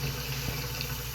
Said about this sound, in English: So I'm just filling this pot. It's a pretty good size, so I'm just going to fill it about halfway up with water